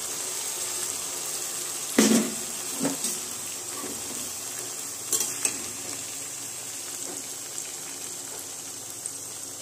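Lentils and washed broken wheat cooking in a pan on low heat, a steady hiss of frying broken by a few stirring scrapes and soft knocks, close up with no voices.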